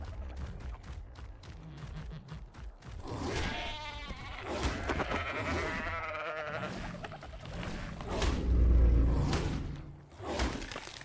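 Sheep in the survival game Ark Aberration bleat repeatedly over several seconds, fairly close and loud, with wavering cries layered over game ambience and a few swooshing effects.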